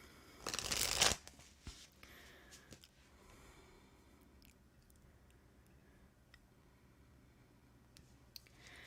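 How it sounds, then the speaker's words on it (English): Playing or tarot-style cards riffled in a loud burst about a second long near the start, then quiet handling with small taps and rustles for the rest. "I am shuffling right now."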